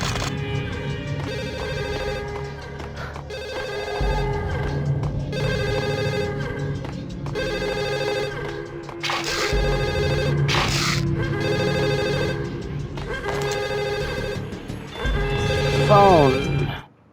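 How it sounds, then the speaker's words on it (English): A telephone rings in the Max Payne video game, a steady repeating electronic bell pattern over a low ambient game soundtrack, rising into a brief louder burst at the end. "Phone."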